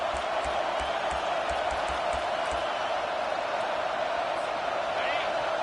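A home crowd roars steadily at a football game on third down, a dense, continuous stadium noise with rhythmic thumps or stomps early on and no break in volume.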